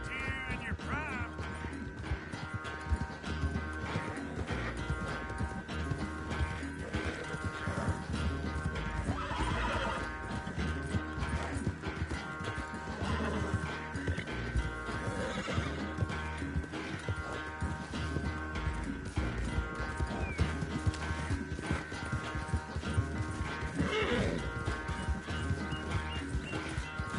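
A horse whinnies and its hooves clip-clop in Red Dead Redemption 2, the neighing rising out of a steady, busy wash of game ambience with birds, loud and close for most of the stretch.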